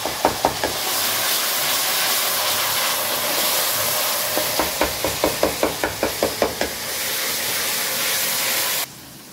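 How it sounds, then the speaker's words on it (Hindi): Green chili and black pepper tempering sizzling in a pan for beef karahi, a loud steady hiss with bursts of rapid popping crackles near the start and in the middle, close up, no talk. "ये लग रहा है मजेदार सा तड़का, हरी मिर्च और काली मिर्च में बन रही है शनवारी कढ़ाई।"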